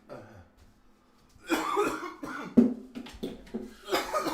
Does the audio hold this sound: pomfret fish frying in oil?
no